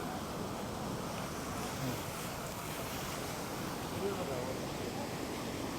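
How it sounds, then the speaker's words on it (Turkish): Rushing water at Manavgat Waterfall in Antalya, Turkey, a steady broadband roar filling the whole clip with no pauses, loud and constant like heavy surf or wind. "Böyle bir şelale."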